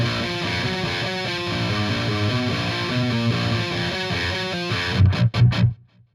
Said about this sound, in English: the distortion part that plays right underneath that